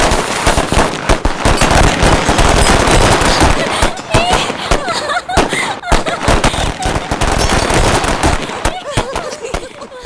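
Firecrackers go off in a loud, dense barrage of sharp cracks and bangs that runs almost without pause, with faint voices buried beneath the blasts.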